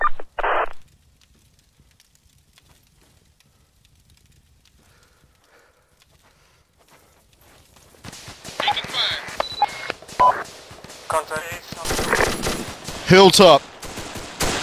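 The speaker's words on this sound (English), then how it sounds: "Taking fire." Gunfire in a combat exchange near a hilltop, bursts of rapid shots and crackling fusillade erupting loudly in the second half after a brief radio call, mixed with shouted voices and radio chatter.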